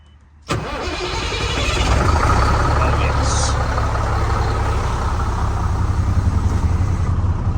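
Cummins diesel lorry engine cranks and fires after a short quiet moment, then settles into a loud, close, steady rumbling idle that holds to the end.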